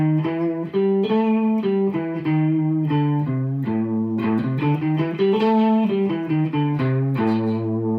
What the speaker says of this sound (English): If I add the flat 5, it sounds like this.